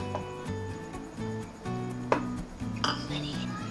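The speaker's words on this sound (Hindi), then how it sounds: "इसको आप अच्छी तरह से पहले मिक्स कर लें।" A spoon mixes ground and whole coriander with green chillies and spices for chicken biryani in a metal pot, with soft scraping and a few clinks, close and fairly quiet.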